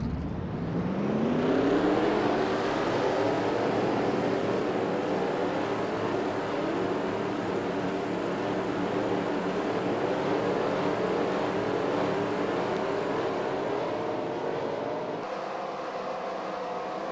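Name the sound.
race car engines starting and revving in a racing video game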